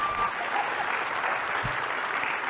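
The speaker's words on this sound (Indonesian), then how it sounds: "Tepuk tangan dulu buat kalian." An audience in a church applauds steadily, a dense, even wash of clapping from many hands that fills the whole moment without pause.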